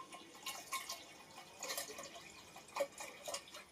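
Water drips and trickles from a sprouting jar as soaked seeds are strained, with soft, faint irregular drops and small splashes at close range and no talking.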